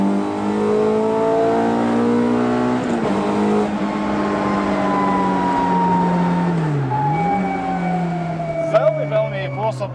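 Peugeot 306 GTI-6 engine pulling hard in second gear around 4000 rpm on a straight, a steady rising harmonic drone with one brief dip as revs shift, heard from inside the car with talk over it.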